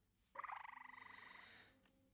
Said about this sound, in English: Oh, I heard it. Frog noise.